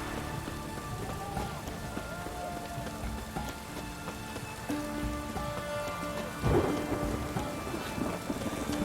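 Rain falling steadily with rolling thunder in the fantasy game The Witcher 3: Hearts of Stone, a constant patter of rain with low rumbles and one louder thunder crack near the end.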